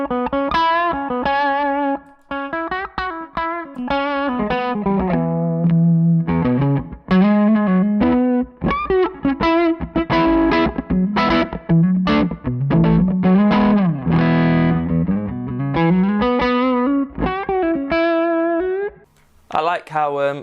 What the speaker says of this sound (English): I like how that particular clone really pushes the mids and adds a little hair, but really manages to stay warm.